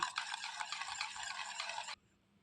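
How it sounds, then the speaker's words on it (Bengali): Biscuit batter with food colour gets mixed in a bowl, giving a soft, quiet, continuous scraping swirl for about two seconds before stopping, close and faint with no talking. "ভালো করে একটু মিশিয়ে নেব"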